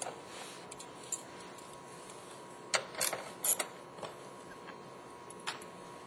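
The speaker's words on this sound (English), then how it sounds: "First we'll start with our removal of our two 6mm screws." A 1/4 inch ratchet with an 11mm socket and extension removes 6mm screws from a Ford F150 door, giving faint, sparse ratcheting clicks in a few short bursts over a steady background hum.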